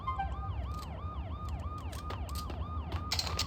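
A repeating wail-and-yelp emergency siren from a vehicle in the video game Max Payne cycles steadily and rapidly, heard alone at moderate volume with a few sharp clicks near the end.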